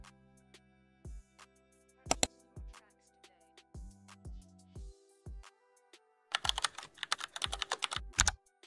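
Typing on a computer keyboard while setting up an account: short bursts of close, crisp key clicks separated by pauses, then a fast, dense run of keystrokes near the end.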